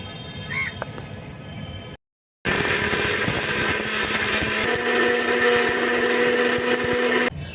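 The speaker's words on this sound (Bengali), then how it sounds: "এখন মিক্সিতে আমি একটু গুঁড়ো করে নেব" A kitchen mixer grinder grinding homemade Maggi masala spices, starting abruptly after a short silence and running as a loud, steady high-pitched motor whine, with a few faint kitchen sounds before it.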